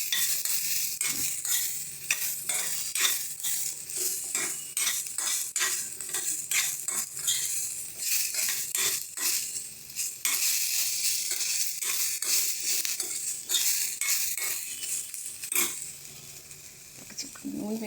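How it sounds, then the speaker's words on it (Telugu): Sesame seeds dry-roasting in a pan on a stove, stirred steadily with a utensil: continuous crackling sizzle with frequent scraping clicks and taps against the metal, close and fairly loud throughout. "ఇలా ఎంతసేపు నువ్వులు ఇంతసేపు వేగుతూ ఉంటాయి కదా స్టవ్ మీద."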